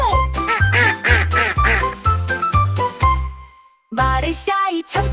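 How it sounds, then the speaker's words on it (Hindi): A duck quacks loudly and close in a steady run of about seven quacks to a children's rhyme beat, then pauses briefly before a few more quacks. "बत्तख की आवाज कोई कोई।"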